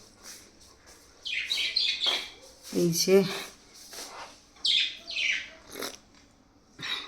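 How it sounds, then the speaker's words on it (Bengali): Two small birds chirping at first light, bright quick twitters in several short bursts close by, with a person talking briefly over them. "পাখিগুলো কিচিরমিচির করছে, সকালের আলো ফুটতে না ফুটতে ওরা কিচিরমিচির করে দুজনেই"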